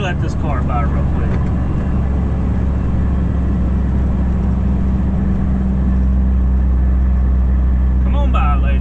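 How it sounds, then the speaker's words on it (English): A car passes close to a parked truck on a road, its engine and tire rumble steady and loud under a constant low idle drone, while someone talks over it at the start and end. "Let me let this car by real quick."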